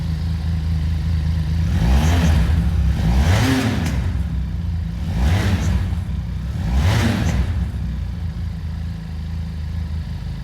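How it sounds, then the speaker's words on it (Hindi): A cold Benelli TRK 502X adventure motorcycle engine blipped through three short, moderate revs over a steady idle, each rising and falling in pitch, close and with no talking. "तो अभी ना हम इसको थोड़ा सा रेव करते हैं, ज़्यादा नहीं करूँगा क्योंकि अभी ये इंजन बिल्कुल ठंडा है"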